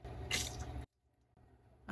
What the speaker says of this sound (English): Yep, there's water drip.